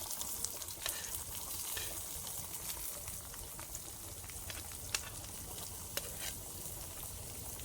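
Onion frying and being stirred in a pan while camping, with a steady, even sizzle and occasional soft clinks and scrapes of the spoon, all fairly quiet and without talking.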